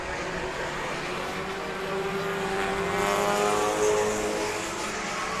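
Front-wheel-drive race cars lap the Indianapolis Speedrome oval, their engines making a continuous droning roar that swells slightly as they pass, with no talk over it.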